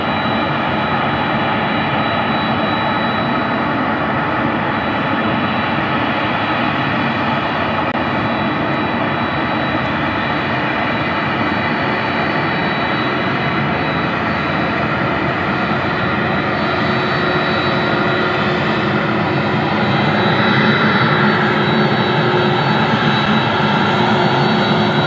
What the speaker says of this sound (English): Looks like we got an arrival coming in on our runway.